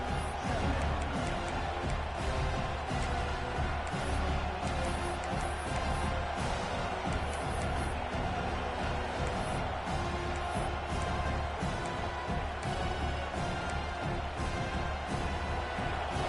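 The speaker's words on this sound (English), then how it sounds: "This crowd going to try to make life miserable for these guys." Stadium crowd roar in a Madden 26 American football game, a dense, steady wash of cheering and noise that runs continuously at moderate level.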